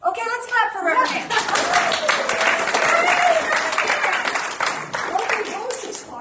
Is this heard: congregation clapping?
yes